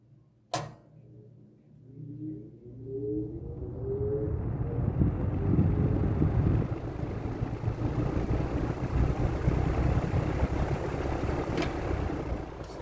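Wells box fan starting up on low speed: a sharp click, then a rising whir as the blades spin up into a steady airy hum with a faint low drone, no talking.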